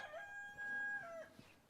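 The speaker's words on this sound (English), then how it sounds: "in our chook run here, we've got a few different varieties of chickens" A rooster crows nearby in a long, wavering call from a chicken run of about 12 mixed-breed chickens, with faint farmyard background noise and no talking.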